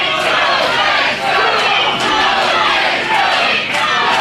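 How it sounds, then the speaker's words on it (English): Wrestling crowd at a 2001 old-school triple-threat match roaring and cheering steadily, a dense, loud wall of voices with a few brief dips and swells throughout. "the crowd responds to a couple great spots put together by these three."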